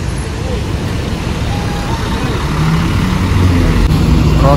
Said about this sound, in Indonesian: Rosalia Indah Avante dengan karoseri tentrem mau keluar nih.